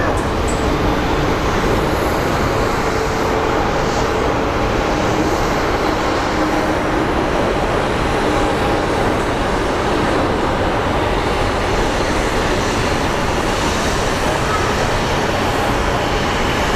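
A small Embraer jet landing at Phoenix Sky Harbor airport, a loud continuous broadband engine roar that holds steady throughout without letting up.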